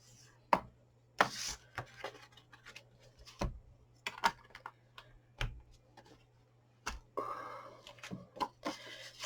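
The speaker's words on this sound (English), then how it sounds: "So we're scoring it at 2 inches." Cardstock is scored at 2 inches on a scoring board for a card, a series of sharp close ticks and clicks at uneven intervals, some scraping strokes, over a faint steady hum without speech.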